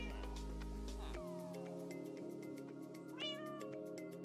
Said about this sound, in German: Machst du Miau.